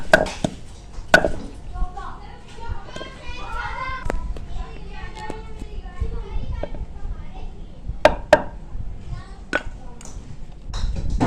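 Dry coriander seeds pounded in a kitchen, sounding as sharp, irregular knocks and taps over several seconds, with children's voices and talk running throughout.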